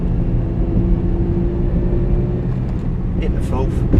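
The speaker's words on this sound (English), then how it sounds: "Bit of revs to get us up the hill." A car engine revs while climbing a hill on a narrow road, a steady low drone with a held tone, heard under a voice talking throughout.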